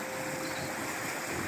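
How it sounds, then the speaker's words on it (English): A flowing stream along a rural road between Waitomo and Mokau in New Zealand gives a soft, even rush of water, a continuous wash with no distinct events and no voices. "Hear the flowing water."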